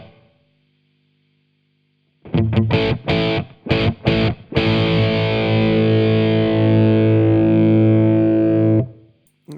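An electric guitar through an amp simulator plays a few choppy distorted chords, then a long sustained chord ringing out with a spacious, reverberant tail before cutting off.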